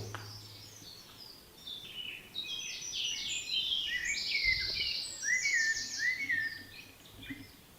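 Several birds chirp and trill busily at moderate distance, overlapping high warbling calls over a quiet outdoor background.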